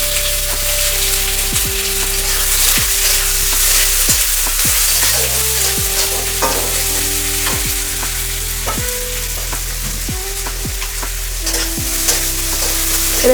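Onion frying with bay leaf, cardamom and cinnamon in a little oil for chicken lababdar, a loud steady sizzle and crackle with intermittent stirring scrapes, close and continuous, no talking.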